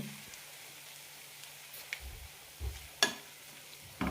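Rolled oats vegetable upma is stirred in a pan after water and salt go in: a few soft, brief scrapes and taps spread across a quiet background, each faint and close.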